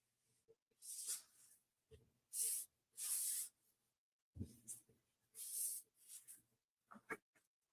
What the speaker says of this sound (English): So I'm just going to spray it down just a little.